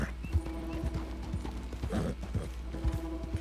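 Horse hooves clip-clop at a steady walking rhythm in the video game Red Dead Redemption 2, quiet and even, with faint background game sounds.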